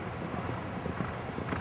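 Horses' hooves clip-clop in a quick irregular rhythm at the seaside on sand, fairly soft and mid-distance, with faint ambient noise around them.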